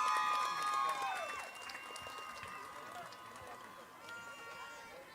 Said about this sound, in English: Let's give Chapel School another round of applause.